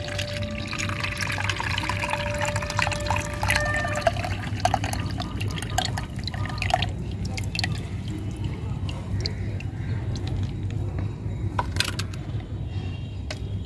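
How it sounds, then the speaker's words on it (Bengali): Water that soaked banana and onion peels being strained, pouring and trickling steadily with some drips and splashes, fairly close and moderate in level; no talk. "এটাকে ভালো করে ছেঁকে নিতে হবে।"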